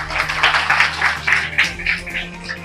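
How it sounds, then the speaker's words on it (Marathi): An audience applauding in honour of Dilip Patil at a Diwali sweets distribution event for tribal families, bursts of clapping in uneven waves, fairly close and moderately loud. "आपण जोरदार टाळ्या वाजून हार्दिक अभिनंदन करूया"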